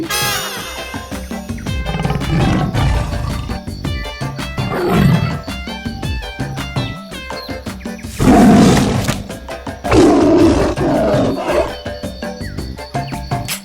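A tiger roars in a Bengali animated story about a king's toy gun hunt, with several loud roaring bursts over busy cartoon music and effects.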